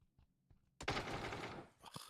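Gunfire in the video game PUBG: a sudden dense burst of rapid shots fired at point-blank range lasts almost a second, followed by a shorter burst. A few faint clicks come before it.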